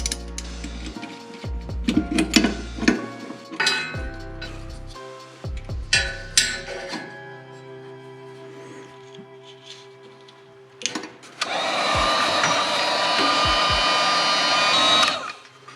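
Heat-shrink wrap being shrunk onto reverse-light wires on a 1966 Mustang, likely with a heat gun: scattered clicks and handling noises, then a steady loud blowing hiss that runs for the last few seconds.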